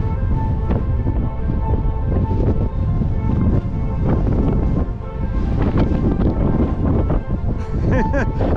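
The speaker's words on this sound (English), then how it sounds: "that wind is at least 30 miles per hour. It's really kicking me around here." Strong wind at the Grand Canyon rim, gusting at around 30 miles per hour, roars and buffets the microphone loudly and steadily throughout, with a rumbling low-end blast that barely lets up.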